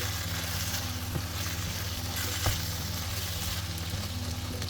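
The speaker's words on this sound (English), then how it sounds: "So just mixing the tomato puree and cook the tomato puree for a few minutes." Tomato puree mixed and cooking in a pan for a casserole with potato and ground beef; a quiet, continuous sizzle with a low steady hum underneath and a few faint knocks from stirring.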